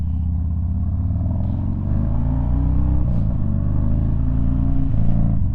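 Harley-Davidson Dyna motorcycle cruising on the road, its engine a loud, steady, deep rumble with a slight shift in tone midway, heard close from the rider's position with no talk.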